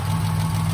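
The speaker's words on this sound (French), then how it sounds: "ça tourne très très bien, elle démarre au quart de tour" A 1971 Citroen SM engine idles steadily close by, a continuous low, even hum with a slight rhythmic pulse and no other sounds.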